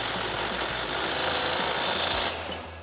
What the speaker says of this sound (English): Now we're going to tighten down our extension bolt with our 22 millimeter socket on our impact and a 21 millimeter wrench.